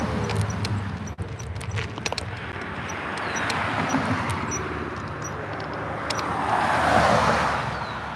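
A car rolls past on a neighbourhood street beside a park in Beavercreek, its tyre and engine rumble steady and moderately close, then swelling louder near the end, with no talking.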